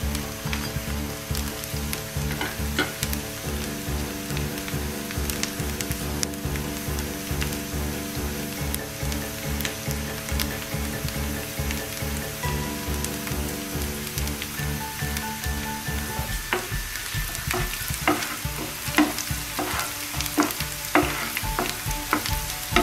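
Chopped ginger frying in hot oil for a Bangladeshi masoor dal bhuna, giving a continuous loud crackling sizzle with occasional stirring scrapes, steady throughout with no talking.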